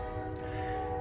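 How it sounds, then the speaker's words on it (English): A train's horn blares as it passes near a custom Jeep XJ on 40-inch tires, a steady loud chordal tone over a low rumble, with no talk. "Sorry about the train."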